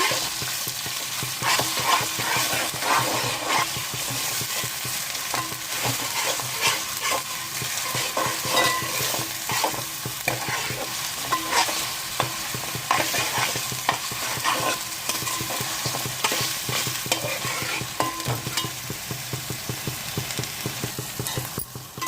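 Ginger garlic paste fries in a pan for white pulao, giving a continuous loud sizzle broken by repeated scraping stirs of a spoon throughout.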